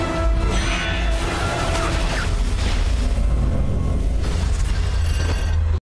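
Bomb explosions from a battle scene in the film X-Men: First Class, a loud, continuous wall of deep rumbling booms with crashing and metallic, clattering mechanical noise layered over a heavy low-end roar, sustained throughout without pause or talk.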